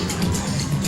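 The Barangay Ginebra crowd at a 2008 pro basketball game against Coca-Cola roars briefly after a rebound, a dense, loud burst of cheering and babble.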